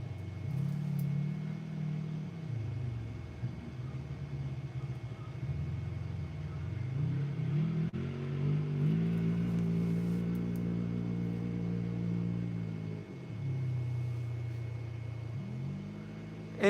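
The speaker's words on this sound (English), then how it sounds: "I heard one car stop by my camp" A car drives up and stops near a camp. Its low engine rumble rises and falls in pitch over several seconds as it slows and idles, moderately close and steady, with no speech.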